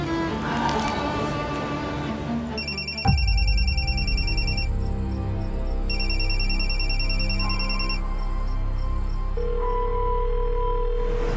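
A telephone rings and goes unanswered indoors, loud repeating electronic ring bursts in two long rounds, over a low steady hum with a brief thump between.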